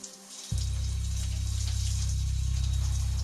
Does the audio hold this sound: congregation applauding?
no